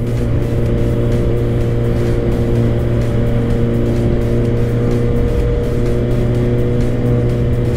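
A Suzuki GSX-R600 motorcycle engine while riding in sixth gear: a constant, loud engine drone with wind rush over it, steady with no clear revving, close and continuous with no talk.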